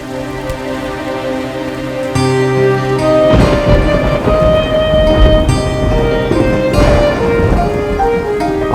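Heavy rain pours steadily in a thunderstorm, a loud continuous wash of drops with rumbling underneath, joined midway by swelling background music.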